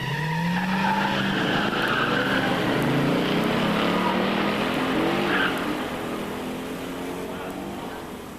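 Drag racing at a musclecar meet: a 1974 Plymouth Cuda 360 automatic and a 1971 AMC SC/360 four-speed run side by side, loud engines roaring and rising through gears, fading slightly as they pull away down the strip.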